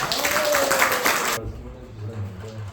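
A church congregation at Sunday worship claps loudly to welcome a university president to the pulpit. The thick applause stops abruptly partway through, and quieter low sounds follow.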